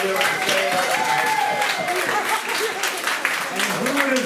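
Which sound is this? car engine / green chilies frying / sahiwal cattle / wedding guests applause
wedding guests applause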